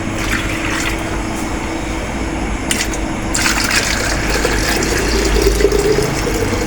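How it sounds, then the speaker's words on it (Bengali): Medicated water poured into poultry drinking containers, a continuous splashing fill that grows slightly fuller toward the end, with no talk. "এখন এই ওষুধগুলো আমি পানিগুলো আর কি ঢেলে দিব প্রত্যেকটা পাত্রে।"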